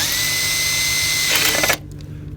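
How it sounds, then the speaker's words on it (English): A power drill bores a small drain hole in the bottom of a sealed waterproof outdoor electrical unit, a steady whining run that rises briefly, then cuts off abruptly into quiet handling noise. "just get your drill there and put a small little hole in the bottom there"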